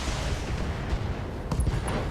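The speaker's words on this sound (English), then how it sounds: "Fire! Acknowledged. The awesome Gauss rifle." Gauss rifle shots in the BattleTech video game, a dense rumbling boom filling the whole moment, with a sharper crack near the end and faint high electronic tones.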